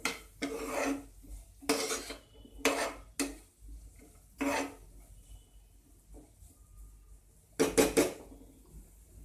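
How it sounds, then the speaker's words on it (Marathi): Salt is stirred through a sprouted moong sabji in a pan, producing several close bursts of spoon scraping against the metal pan, separated by quiet gaps. "आता ह्याच्यामध्ये मीठ टाकायचं आहे चवीनुसार. व्यवस्थित मिक्स करून घ्यायचं."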